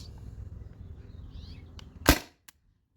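A modified T4E TR68 gas-powered air gun with a 1mm drilled restrictor fires a single sharp, loud crack after a quiet low hum, followed by a faint short click.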